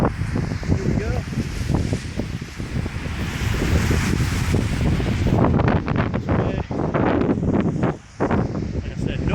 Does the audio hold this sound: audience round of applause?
no